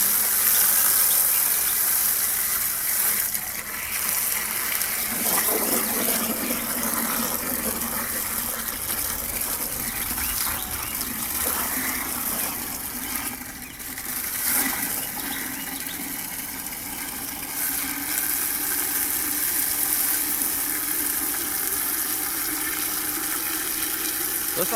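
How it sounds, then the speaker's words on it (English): Water gushes steadily from a tap or hose into a chicken watering container, a constant loud rush of pouring water lasting throughout. "let's fill it up and see how well it holds water."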